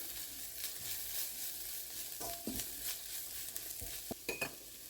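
Chili, garam masala and fennel powders being mixed in a pan for beef cutlet filling, a quiet steady sizzle with a few scraping strokes and light clicks of a spatula near the end, no talking.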